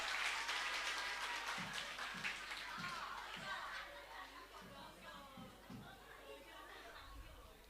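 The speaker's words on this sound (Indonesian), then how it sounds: "tepuk tangan untuk beliau ya" Audience clapping at a national seminar in an Islamic boarding school, a brief burst of applause that fades over several seconds, with murmured chatter and laughter from the crowd.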